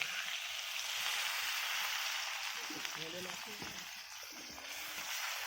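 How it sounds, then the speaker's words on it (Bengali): Water is poured into a sizzling pan of spiced elephant foot yam curry with rohu fish head, a steady hiss of frying with stirring under it, while someone talks over the cooking. "এইবার আমি পরিমাণ মতো জল দিয়ে দিচ্ছি"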